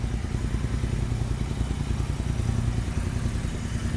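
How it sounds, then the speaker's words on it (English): A Royal Enfield Interceptor 650 with a Powerage short slip-on exhaust idles steadily, a loud, deep, hollow thumping rumble close to the microphone with no talk. "it sounds like a monster compared to the stock exhaust. Loud."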